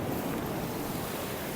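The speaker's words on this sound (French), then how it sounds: "je vais essayer de ne pas me faire choper par les vagues qui arrivent sans prévenir" Sea waves crash and wash steadily along the shore at Enoshima in Japan, a dense continuous roar mixed with wind buffeting the microphone, with no voices.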